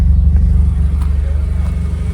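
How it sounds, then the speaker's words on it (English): A 1996 Mazda Efini RX7 Type RS rotary engine idles close by, a steady low burbling rumble with a fast, even pulsing rhythm throughout. "the car settles into a nice, sweet, stable idle"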